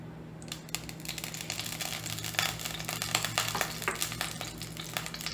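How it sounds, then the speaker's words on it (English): Oil sizzles and crackles in a frying pan on a stove as food is fried, a dense run of sharp pops over a steady hiss, close and moderately loud. "start frying everything together"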